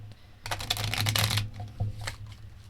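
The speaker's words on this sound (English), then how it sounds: "Is there a specific way to shuffle?" A deck of tarot cards is shuffled close up, a quick burst of riffling and flicking card noise that eases into softer shuffling and a few lighter taps toward the end.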